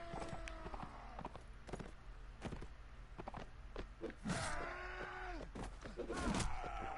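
Galloping horse hooves in the medieval combat video game Mount and Blade: Warband, a steady clip-clop rhythm under clashing battle noise and shouts that swell louder toward the end.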